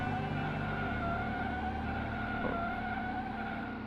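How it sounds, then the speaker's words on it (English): A racing car in the game Slipstream speeds close behind, its engine a steady, moderately faint hum that holds one pitch with little change across a few seconds. "the car behind me is going illegally fast"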